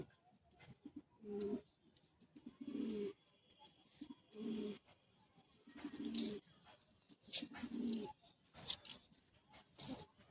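Pigeons in a loft coo softly in repeated low, throaty phrases, roughly every second or two across the stretch, fairly faint, with light rustling and a few higher chirps between calls.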